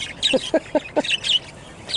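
Baby birds about five weeks old call from a divided flight cage, giving a run of four quick, evenly spaced chirps mixed with thin, high cheeps, all fairly close.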